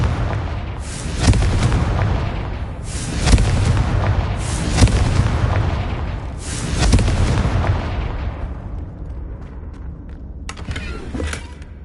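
Confringo fire spell explosions in the Hogwarts Legacy video game, four heavy booming blasts a couple of seconds apart, each rumbling before fading, then a fainter burst near the end.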